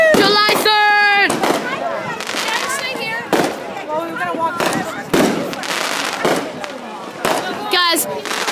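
Fireworks crack and pop in sharp repeated bursts at a July beach celebration, close and loud, while people talk and cheer excitedly between the blasts.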